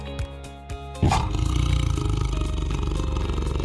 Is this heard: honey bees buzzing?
no